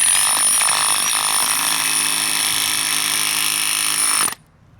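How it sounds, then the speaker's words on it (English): An SDS Max hammer drill fitted with a quickie hammer drives edging spikes into a hard, compacted dense-grade base, a steady loud mechanical hammering drone with a high whine that cuts off abruptly near the end. "using our quickie hammer with our hammer drill, SDS Max, it makes it pretty simple for driving these spikes into a hard compacted base"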